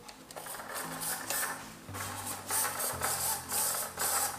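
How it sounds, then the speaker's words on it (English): The rudder servo on a large foam RC airboat whirs in short mechanical bursts, several quick buzzing movements close to the microphone, separated by brief pauses. "Alright, so let's try the servo."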